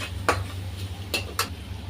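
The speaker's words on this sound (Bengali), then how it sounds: "এখন একটু ভালো করে নেড়ে দেব মশলাটা কষানোর জন্য" Spoon or spatula scraping through spice masala in a pan while cooking prawns with onion greens, three distinct clinking strokes over a steady low background hum, close and moderately loud, with no talking.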